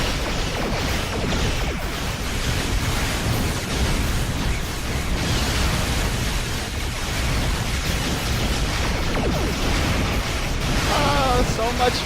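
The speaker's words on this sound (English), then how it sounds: "fire and explosions everywhere!" Explosions and blasts in the space combat video game Star Trek Online rumble and crash continuously, layered with whooshing bursts and booming impacts at a loud, steady level.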